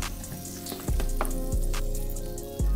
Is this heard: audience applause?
no